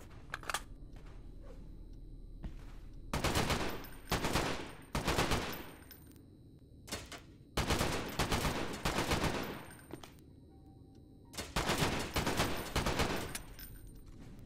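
Rifle gunfire in a VR shooter, sounding as several loud bursts of rapid automatic fire, each lasting about a second, separated by quieter pauses with reload clicks and handling noise.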